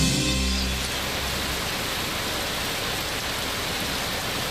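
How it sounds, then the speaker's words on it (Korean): Heavy summer rain shower pouring down outdoors, a loud, steady roar of dense rainfall with no break throughout. "한여름의 소나기."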